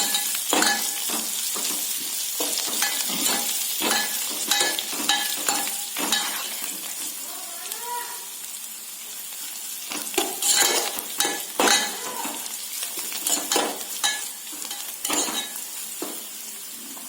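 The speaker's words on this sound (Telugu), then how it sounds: "ఈ టమాటాలు వీటిలోనే మగ్గనివ్వాలి కొద్దిసేపు, 5 నిమిషాలు." Tomatoes sautéing in a pan for tomato rasam: steady frying sizzle throughout, punctuated by repeated scraping and clinking strokes of a spoon stirring against the pan, close up, with no talking.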